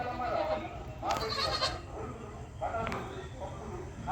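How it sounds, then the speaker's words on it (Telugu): Goats at play on a village farm give a few short bleats over a steady outdoor background, with a voice faintly present. "చూడండి, ఆట అయితే ఆడుతున్నాయి మేకలు."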